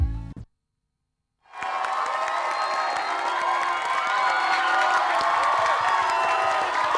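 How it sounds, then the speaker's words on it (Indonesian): Studio audience on a television show cheers and applauds loudly after a short silence, a dense wash of clapping with whoops and shouts building and holding steady. "Tepuk tangan sekali lagi yang keras buat para ibu yang ada di dunia"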